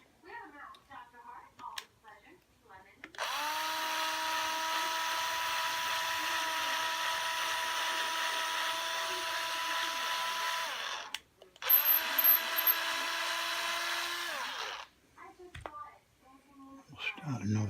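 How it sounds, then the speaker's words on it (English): A power drill bores a screw hole into the body of a metallic blue Fender Squier Mustang short-scale hardtail guitar, a steady whine running about seven seconds, a short break, then a second burst of several seconds, with quiet movement and faint sounds around it. "and drill that hole"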